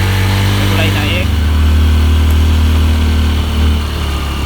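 Motorcycle engine straining uphill on a climb, a loud continuous low drone that shifts pitch partway through, with a brief voice heard over it.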